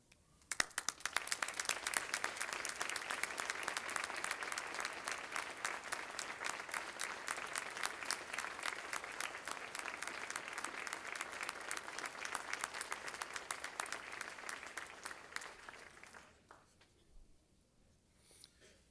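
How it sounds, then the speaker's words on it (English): An audience at a Saint Mary's University of Minnesota commencement ceremony gives a dense, sustained round of applause honoring faculty and advisors. The clapping stays full for about fifteen seconds, then thins and fades out. "I ask the St. Mary's University faculty, program directors, and advisors to please stand and face the graduates so that we may all honor you with a round of applause"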